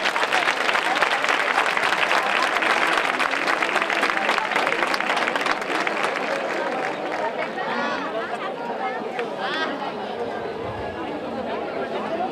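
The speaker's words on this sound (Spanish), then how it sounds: "recibamos con un fuerte aplauso" Audience at a copla song night in Arahal gives loud, sustained applause that slowly thins, with crowd chatter mixed in throughout.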